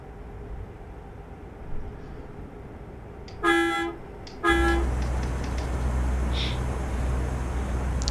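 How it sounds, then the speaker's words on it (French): In Euro Truck Simulator 2, a car horn honks in two short, loud blasts of different lengths, and a truck engine drone then rises underneath and keeps going. "Ah mais ce klaxon, il est horripilant. Il y a le klaxon de voiture."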